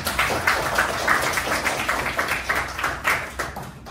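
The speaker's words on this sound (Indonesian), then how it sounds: "Kasih tepuk tangan untuk teman-teman kalian tadi yang telah menjawab pertanyaan" Students in a classroom clap for classmates, a steady, fairly close patter of many hands that keeps going for several seconds without a break.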